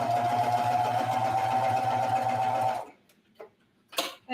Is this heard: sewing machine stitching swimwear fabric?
yes